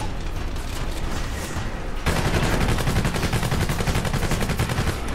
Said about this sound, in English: Hey, there's a rocket launcher right there.